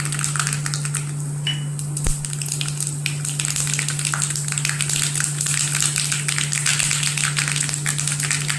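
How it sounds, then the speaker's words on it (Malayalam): Mustard seeds sizzling and popping in hot coconut oil in a pan, a steady loud frying hiss with scattered crackles running throughout, close and alone. "ചൂടായ എണ്ണയിലേക്ക് കടുക് ചേർത്ത് കൊടുക്കാം."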